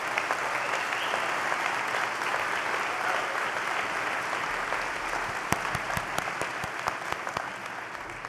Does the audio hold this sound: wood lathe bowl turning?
no